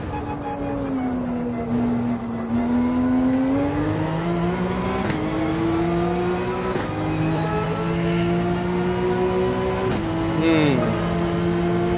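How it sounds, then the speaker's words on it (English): A Porsche 911 races around Laguna Seca in Gran Turismo 7, its engine note steadily rising and falling through gear changes, loud and close throughout, with a person talking over it. "Porsche 911 on Laguna Seca."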